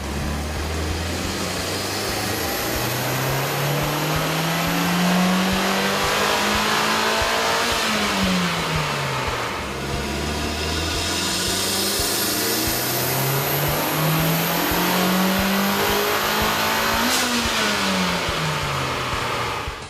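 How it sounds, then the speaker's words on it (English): A car fitted with a K&N 69-6546TWR cold air intake revs on a dyno, its engine note rising and falling in two long sweeps up to around 6,100 RPM, loud and close with a steady intake roar and no talk. "we ran the vehicle on the dyno to test the sound comparison versus the stock intake"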